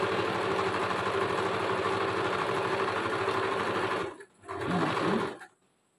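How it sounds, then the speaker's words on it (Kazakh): A sewing machine stitches a garment sleeve, its steady fast mechanical whirr running loud and continuous, then cutting out briefly, restarting for a short burst and stopping. "Жеңді тігіп алдым."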